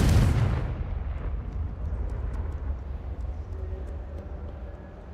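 A Confringo blasting spell bursts in the Hogwarts Legacy video game with a loud, booming blast that rolls off into a long, fading rumble.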